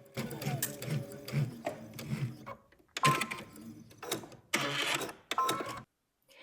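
A home sewing machine runs in several short bursts, stitching the closed side of a loungewear garment from end to end, with brief pauses between runs and a silent stop at the end.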